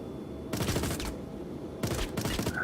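Gunfire in the space game Star Citizen, two dense bursts of rapid shots, loud and close, separated by a short pause.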